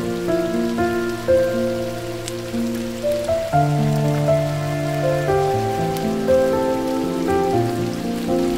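Rain falls steadily at the Rain Forest Eco Resort in Gazipur on a wet day, a soft continuous patter under a prominent bed of sustained tonal music.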